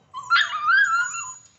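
A dog whimpers and yips in one drawn-out, high whining cry with a sharp rising yelp near the start, close and clear against a quiet background.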